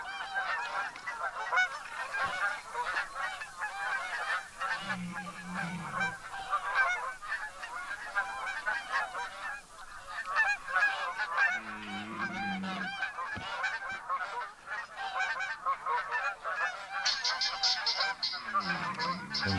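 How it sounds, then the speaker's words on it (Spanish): Geese honking in a hunting video game, a dense flock calling continuously with overlapping nasal honks throughout, loud and steady with no speech. "O sea que son muy molestos, tío, los gansos. Con el sonidito."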